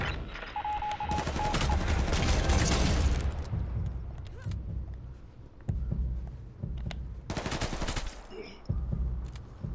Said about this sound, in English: I just heard the shot pop southeast